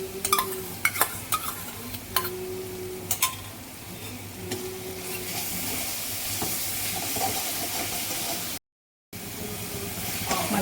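Fresh whisked curd added to masala frying in a pan on a low flame and stirred with a spoon. A few scrapes and clinks at first give way to a steady soft sizzle and hiss, then a brief cut in the sound.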